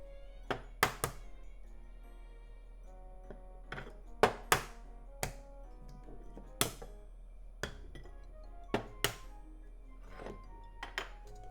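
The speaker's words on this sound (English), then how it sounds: "Make small cracks at the bottom of the eggs." Sharp taps and clinks, about a dozen, irregularly spaced and fairly close, as small cracks are made in the bottoms of eggshells, with quiet pauses between.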